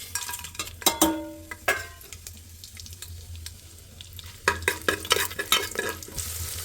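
Dried red chillies, cardamom and onion fry in a pan for veg biryani, with clanking stirs and scrapes over a steady low sizzle, sharper spoon hits near the start and toward the end.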